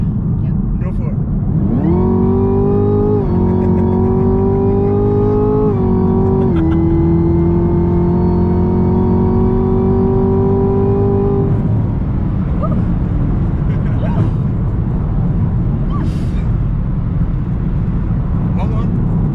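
A brand new Chevrolet Camaro ZL1 launches from a standstill, its engine climbing loud and close through several gear changes before easing off, with voices from inside the car over the engine's drone.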